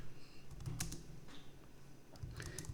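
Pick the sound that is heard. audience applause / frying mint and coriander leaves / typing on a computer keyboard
typing on a computer keyboard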